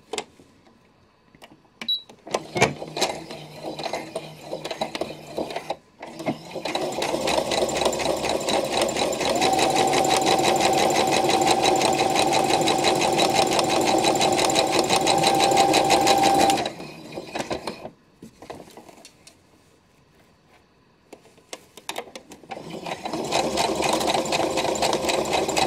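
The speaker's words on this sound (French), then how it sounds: "donc je commence à coudre à partir de celle-ci, à 1 cm du bord, en commençant par un point marche-arrêt" A sewing machine stitches fabric for an Easter basket, its needle whirring in a fast steady rhythm through long runs, close and loud, broken by brief pauses and a final burst.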